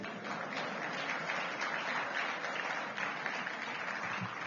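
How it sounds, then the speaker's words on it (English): Audience at a Nigerian governance and democracy forum breaking into steady applause, a continuous dense patter of many hands clapping at even loudness from start to finish. "If you want to applaud, please do so."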